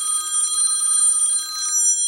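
A telephone bell rings in one continuous, bright, trilling burst lasting about two seconds, close and clear, with no voices.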